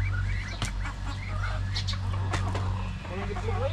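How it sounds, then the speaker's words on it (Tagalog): Backyard chickens clucking and squawking as they are fed, close and fairly busy, with brief bursts of calls over a steady low hum and occasional human voice nearby. "Lagyan muna natin itong mga manok."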